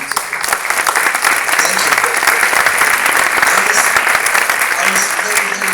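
An audience at a film festival Q&A in Jerusalem claps loudly and steadily, a dense, continuous applause filling the room, with a brief spoken word at the start.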